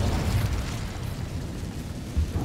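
An Incendio fire spell bursts in Hogwarts Legacy, a loud rumbling blast with low booming pulses and crackling noise sustained throughout, swelling again near the end.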